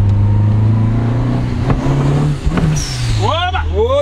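A Volkswagen Santana turbo with original pistons and rods, running on alcohol fuel, idles loudly and then revs hard, its engine note climbing in pitch as people talk nearby.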